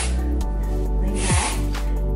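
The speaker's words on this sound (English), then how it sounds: "spray it all over my scalp like so" Hair refresher spray is sprayed onto the scalp in one brief, close hissing burst over a steady background.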